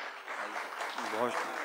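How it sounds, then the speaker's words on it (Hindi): A crowd at a poetry gathering during an art and literature festival gives a brief, soft round of applause. A voice rises faintly near the end. "ज़ोरदार तालियां आपकी।"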